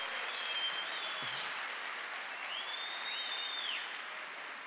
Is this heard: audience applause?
yes